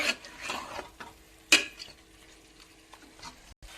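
A spoon stirs garam masala and cumin powder into Chikkamagaluru-style chicken fry in a pan, giving soft, intermittent scraping and faint sizzling with one sharper clink near the middle.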